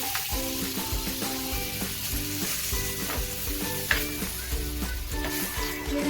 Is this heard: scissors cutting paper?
no